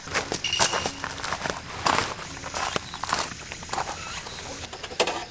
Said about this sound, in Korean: 아주 가는 빗방울이 살짝 날리고 있습니다.